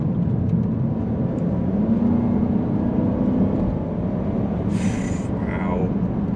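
Volvo S80 V8 engine pulling hard through a series of bends, a steady loud drone from inside the cabin with a rising engine note partway through and a brief high hiss near the end.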